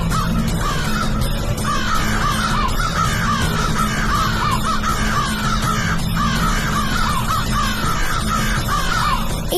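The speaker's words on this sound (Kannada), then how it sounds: "ಇದ್ದಕ್ಕಿದ್ದಾಗೆ ಇಷ್ಟೊಂದು ಕಾಗೆಗಳು ಎಲ್ಲಿಂದ ಬಂದವು?" Flock of crows cawing continuously and overlapping, harsh repeated calls near and far, steady and loud with no talk.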